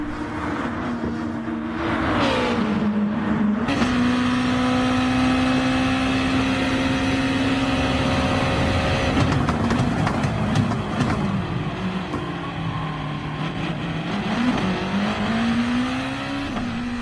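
Super GT race cars in Gran Turismo Sport at the Red Bull Ring give a loud, continuous engine roar close up, rising and falling through gear shifts and revs, with brief tire squeal.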